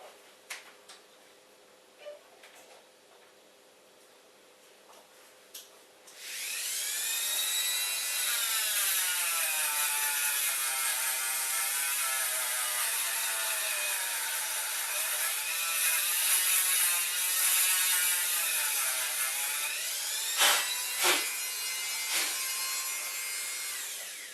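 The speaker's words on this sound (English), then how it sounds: "So we'll just Dremel out a bit more." Dremel rotary tool cutting into MDF, a loud steady high-pitched whine with wavering pitch as the bit bites, running continuously for about fourteen seconds after quieter handling, then stopping with a few clicks.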